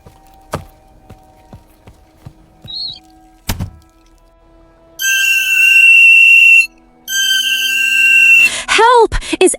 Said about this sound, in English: June, blow the whistle again, as loud as you can.